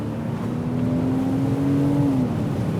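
A Porsche Boxster convertible accelerates at full throttle, its engine note climbing steadily in pitch over a continuous road and wind rush, heard from inside the car.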